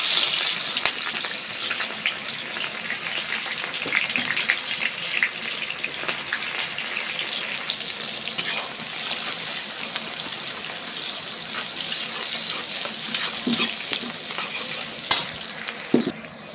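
Onions fry in hot oil with whole garam masala spices at an outdoor picnic cooking pot, giving a steady, dense sizzle with scraping stirs and occasional louder clinks, no talking.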